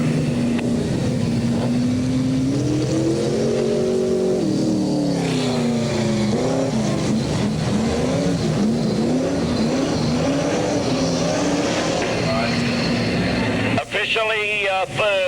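Sprintcars circle the Newcastle Motordrome at the 1979 NSW Sprintcar Championship under yellow light, engines droning and rising and falling in pitch as they pass, loud and continuous beneath a commentator's voice, with a sharp burst near the end.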